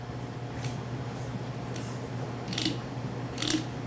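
A chef's knife slices raw fish along the bone line, giving faint crisp snipping and crunching cuts against a steady background hum, with several distinct scrapes near the end.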